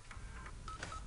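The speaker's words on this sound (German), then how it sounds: "So ein Oldschool-Telefon." A short series of tones from an old-school telephone being dialed in the video game Alien: Isolation, faint with a few quick beeps over low background hum.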